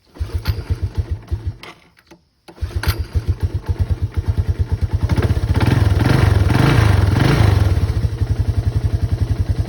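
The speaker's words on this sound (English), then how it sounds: "So choke on, let's give her a pull." A Yamaha YTM225 three-wheeler engine is pull-started with the choke on. Its rapid, loud thumping putters, cuts out briefly, catches again and revs up, close by, in the open.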